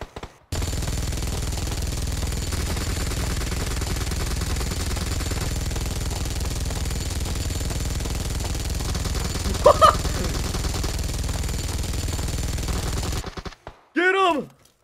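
Continuous automatic gunfire from the PUBG Mobile zombie game mode rattles without a break for most of the stretch, with a brief louder burst partway through, then stops abruptly before a short shout.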